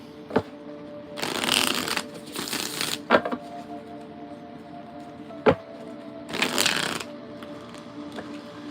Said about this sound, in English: Give it a good shuffle because I used quite a bit of the deck the other day.